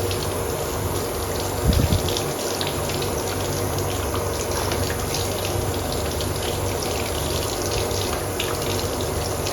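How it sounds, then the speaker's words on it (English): Warm water pours steadily from a tap in a continuous close gush, with a brief knock near the start and no talking. "you're gonna want to run some warm hot water on the plastic back here"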